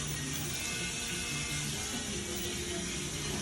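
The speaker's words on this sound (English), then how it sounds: "you clean it with hot water. You rinse it off with hot water." Hot tap water runs steadily into a sink as beef cubes for Haitian soup joumou are rinsed, a continuous close rushing splash with no talk.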